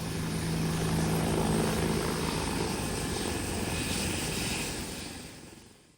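A combat helicopter roars loudly with a thick rotor thrum and engine whine at an airshow in China, holding steady before fading away as it moves off.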